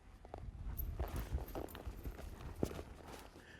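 Cutting horse's hooves stepping back on a mechanical-cow training pen, a few soft, uneven footfalls close by over light background noise, no talking.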